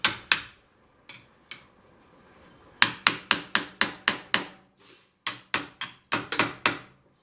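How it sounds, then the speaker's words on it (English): Sharp mallet strikes on a screwdriver wedged into a part of a Honda 250 motorcycle, a string of close, crisp knocks, a few scattered early then a rapid steady series of evenly spaced blows. "Got a mallet and a screwdriver. I'll just wedge it in here."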